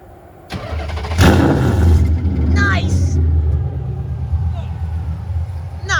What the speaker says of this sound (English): let's get this cold start going there